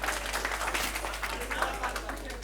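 An audience at a high school quiz contest applauds in a continuous crowd clap over a low steady hum, fairly soft and even throughout with faint voices underneath.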